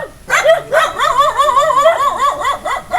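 Several dogs kept as pets at a makeshift home bark, yip and whimper in close, repeated bursts, loud and overlapping throughout.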